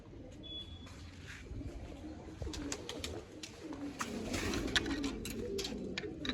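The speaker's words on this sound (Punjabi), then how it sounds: "ਕਬੂਤਰ ਵੀ ਚੁੱਗ ਗਿਆ ਤੇ ਕਬੂਤਰਾਂ ਵੀ ਚੁੱਗਾਂ" Pigeons coo softly in low, murmuring tones against a steady background hum, with faint outdoor noise throughout.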